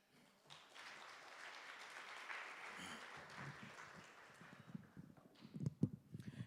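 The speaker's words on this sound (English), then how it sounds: "Another round of applause, please." Audience applause at a youth e-voting democracy event, a steady wash of clapping that swells and continues, with some louder individual claps near the end.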